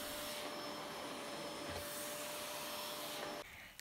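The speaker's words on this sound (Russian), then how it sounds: "А тут я начала убираться, пылесосить первые и вторые этажи." Vacuum cleaner running steadily while cleaning the floors of a two-storey home, a loud continuous whirring drone with a steady whine that cuts off near the end.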